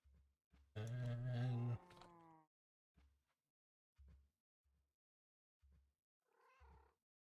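A video game cat lets out one long, clear meow, then gives several short, soft chirps and mews spaced out over quiet gaps, close and fairly faint overall.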